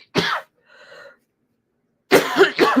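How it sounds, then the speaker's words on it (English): A person coughs sharply nearby, then a faint breathy sound, then a pause before two more quick, harsh coughs. "I'm so sorry for the coughing."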